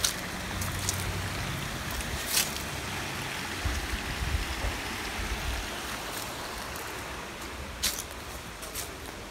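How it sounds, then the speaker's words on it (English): A creek flows near an apartment in the Bay Area, giving a steady broad rushing wash with faint splashy ticks, heard alone at moderate distance. "Oh wow, there's a creek here."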